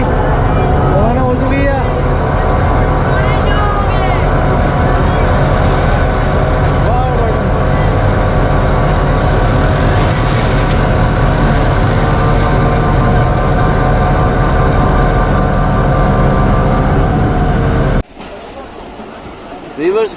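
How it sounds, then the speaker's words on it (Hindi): The Ravi Express passenger train pulls out of Warburton railway station with a loud, continuous rumble and clatter, squeals and whistling tones over it, voices mixed in, and a sudden drop to quieter sound near the end. "वीवर्स गाड़ी इस वक्त रवाना हो चुकी है बारबरडन रेलवे स्टेशन से"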